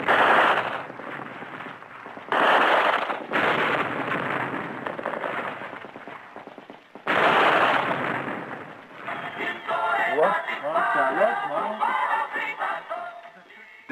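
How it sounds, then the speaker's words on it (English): Artillery bombardment of Israeli positions along the canal: loud, repeated blasts and rumbling bursts in several clustered waves, with a busier crackling stretch of gunfire-like reports toward the end. "Despite the continuous bombardment and Nasser's boasts, the Israeli defense line is still very much intact"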